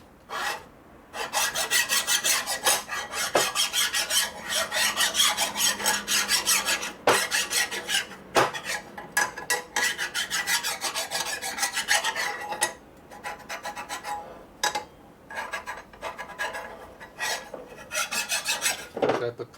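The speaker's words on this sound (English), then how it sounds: "I put pressure on the file here in the middle." A hand file rasps across the flat face of a Harley Shovelhead motor case in long, loud, close strokes. The strokes come in repeated bursts separated by brief pauses.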